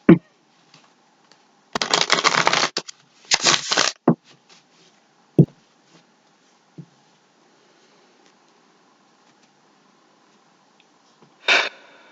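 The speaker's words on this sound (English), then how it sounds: "Okay, one more shuffle, and then I won't talk." Tarot cards are shuffled in two quick riffling bursts near the start, then one short shuffle near the end, separated by quiet gaps with a few faint taps and breaths.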